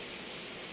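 Rain falls steadily, a dense, even hiss of drops that fills the short moment without any break, with no voices over it.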